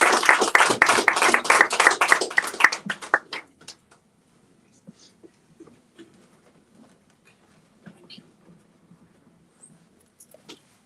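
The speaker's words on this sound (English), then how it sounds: "Please receive him with applause." Audience applause greeting a filmmaker invited onstage at a film discussion event: a dense burst of clapping for about three seconds that quickly dies away, leaving a quiet room with faint scattered shuffles.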